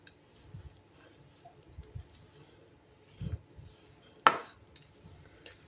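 Sugar and crushed peanuts are stirred together in a pan for chikki. The quiet scraping and soft knocks of the spoon come at intervals, with one sharper clink of metal near the end.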